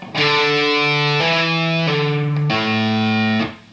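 Distorted electric guitar notes sliding between pitches with quick hammer-ons and pull-offs, a sustained phrase in a few connected segments, loud and alone.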